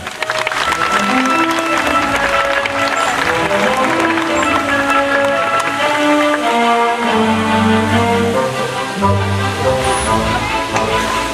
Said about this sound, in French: On peut applaudir, Koun.